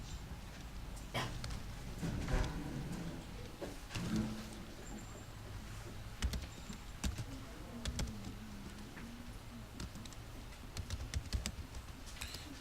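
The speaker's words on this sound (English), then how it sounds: "You know, my typing skills are really bad today." Quiet keystrokes on a computer keyboard, irregular bursts of clicks with short pauses, close and fairly faint in a calm room, with no talking.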